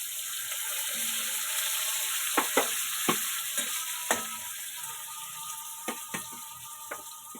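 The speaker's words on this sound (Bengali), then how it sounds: "এবার মিষ্টি কুমড়ো ভাজব" Sweet pumpkin pieces fry in a pan with a steady, hissing sizzle, punctuated by sharp clicks and taps of a spatula stirring them, close and continuous with no voices.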